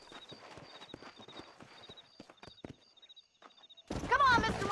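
In the video game Red Dead Redemption, rhythmic clip-clop of horse hooves on hard ground under a voice, then a sudden loud burst of noise with a horse whinnying near the end.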